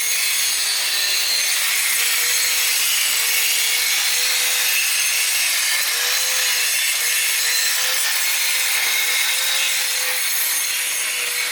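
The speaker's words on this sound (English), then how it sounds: "so he decided to grind them off" A power grinder steadily grinding welds off on a turbo D21 Hardbody truck build, a continuous harsh abrasive whine that holds unbroken for the whole stretch at close range.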